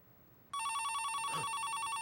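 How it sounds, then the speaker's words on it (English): A telephone rings with a sudden, loud, continuous electronic trill that starts after a moment of quiet and carries on steadily, with no talking over it. "Oh, the thumb phone. Aren't you going to answer it?"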